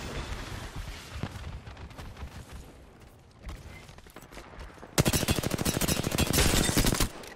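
Gunfire in the battle royale shooter Apex Legends, with scattered shots early on, then a loud, rapid automatic burst that runs steadily for about two seconds before cutting off.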